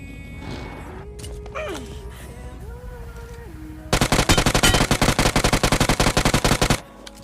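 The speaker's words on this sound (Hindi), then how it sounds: "क्या प्यारे हेड की आवाज़ आई, टन टन" Gunfire in a video game: scattered shots and game sounds, including a headshot hit sound, then a loud, rapid burst of automatic fire lasting about three seconds before cutting off.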